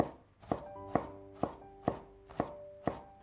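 A knife dices fresh ginger on a cutting board in six crisp, evenly spaced chops, close and fairly quiet, with a faint ringing tone between strikes.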